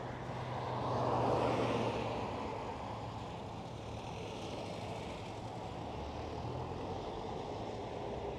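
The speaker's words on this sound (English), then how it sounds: "And airborne for the LL 777 back towards Tel Aviv" An El Al Boeing 777 takes off from Schiphol with a broad, distant jet-engine roar that swells early and then holds steady.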